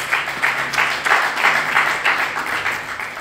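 An audience applauding at a French-language church gathering, rhythmic clapping in unison with a steady beat, loud and close, lasting the whole stretch.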